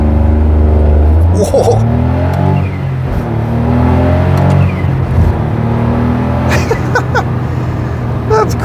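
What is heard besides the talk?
Smart Roadster W452 sports car accelerating up to 40 mph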